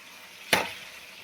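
Pointed gourd pieces drop into a hot pan of boiled potatoes, giving one sudden sharp burst of sizzle that quickly fades to a low hiss.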